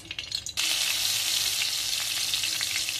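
Butter and oil hit a hot pan for gravy and burst into a loud, steady sizzle that stays constant to the end, following a few soft clinks.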